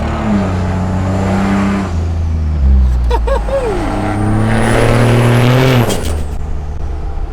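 Pickup truck engine on a joyride, loud and close, with deep droning revs that climb and fall through gear changes and a brief high whining sweep midway, running continuously throughout.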